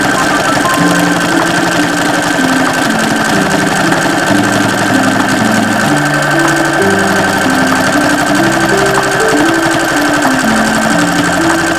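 A sewing machine stitches practice buttonholes on a thrifted sweatshirt, its steady mechanical whirring running loud and unbroken from start to finish with no talking.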